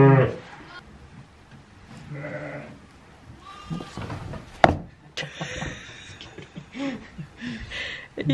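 Sheep bleats and soft livestock shuffling during hand milking of a patient ewe, with a couple of sharp knocks, brief bleating bursts heard close, and people talking quietly in between.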